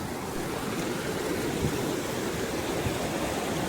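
Water at Pangong Lake makes a steady, broad rushing wash, like waves or flowing water close by. It is continuous and fairly loud, with no voices.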